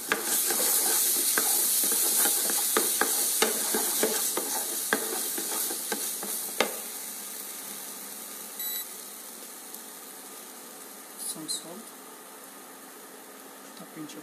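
A tomato, cashew, capsicum and ginger-paste gravy frying in a pan while being stirred, with a quiet sizzle under rapid scraping clicks that fade to a softer hiss.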